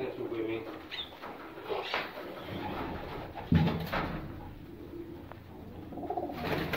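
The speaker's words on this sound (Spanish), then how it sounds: "Aquí palomas con premio y todo eso" Pigeons coo softly inside a loft of pigeons kept for sale, low repeated cooing calls close by, with people talking over them and a brief flutter or knock partway through.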